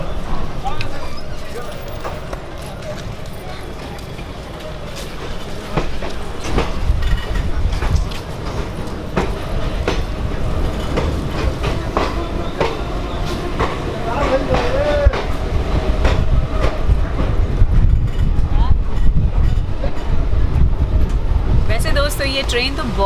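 Riding aboard the Shramjeevi Express, rails clatter in a steady rhythmic clickety-clack beneath a rumbling, rattling carriage, growing louder as the train gathers speed, with voices talking over it.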